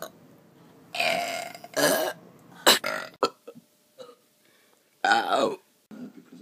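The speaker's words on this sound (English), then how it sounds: "Burping contest." Several loud, drawn-out burps erupt one after another during a burping contest, with short gaps between them and brief bits of talk mixed in.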